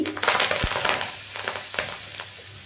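Cumin and fenugreek seeds crackle and sizzle in hot oil beside fried elephant foot yam, a close, steady frying hiss with small pops and a few louder spits.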